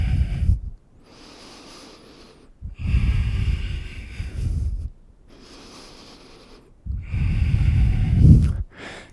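Deep, audible breaths taken during an advanced yoga flow, in slow alternating cycles of long, rushing inhales and exhales with quiet gaps between them, close and clear.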